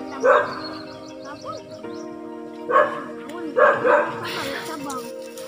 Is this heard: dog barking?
yes